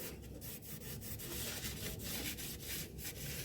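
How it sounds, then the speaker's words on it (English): The gasket mating surface on a Nissan X-Trail T31 2.5L CVT pan is rubbed and scraped clean in a steady back-and-forth rhythm, a continuous close, gritty scrubbing with no talking. "I'm going to slowly clean where the gasket sits"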